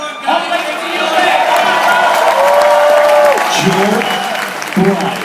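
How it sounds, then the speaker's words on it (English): A crowd at a beer event in Denver bursts into applause and cheering, sustained and loud for several seconds, with whoops and voices mixed into the clapping and an emcee's talk layered over it. "Now, make some noise for him"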